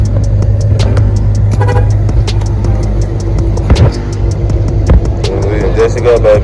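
A 1985 Cadillac Eldorado with newly fitted dual exhaust pipes idles and rumbles with a deep, steady exhaust drone, close by, while voices talk over it and a brief horn-like toot sounds.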